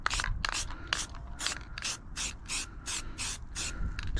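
Repeated short hisses from an aerosol spray can laying a light coat over body filler on a Nissan Skyline, about a dozen quick rhythmic bursts close up with brief pauses between.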